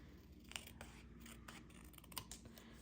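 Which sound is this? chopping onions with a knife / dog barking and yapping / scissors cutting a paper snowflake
scissors cutting a paper snowflake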